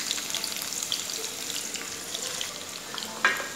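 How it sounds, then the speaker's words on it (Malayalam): Sliced onions dropped into hot oil for an easy chicken curry give off a steady, close sizzling hiss that holds evenly throughout, with a brief louder crackle near the end. "ഞാൻ അതിലേക്ക് അരിഞ്ഞു വെച്ചിട്ടുള്ള സവാള ചേർത്ത് കൊടുക്കാൻ പോകണം."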